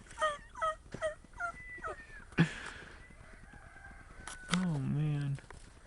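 Wild turkeys gobble during a hunt, with several rapid warbling gobbles early on and a louder, drawn-out call near the end, sounding fairly close, alongside a person's voice at times.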